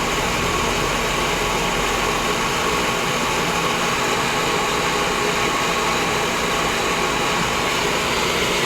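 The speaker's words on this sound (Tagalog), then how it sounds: "So andar na ang makina sa" A steady mechanical hum of an engine running in water, fairly loud and even throughout, with no voices.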